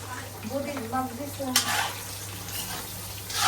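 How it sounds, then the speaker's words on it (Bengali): Pointed gourd frying in a wok during home cooking for a big household event, a steady close sizzle and hiss with stirring clatter, with faint voices and a constant low hum underneath. "এই কড়াইতে বসাই দিছে পটল ভাজা"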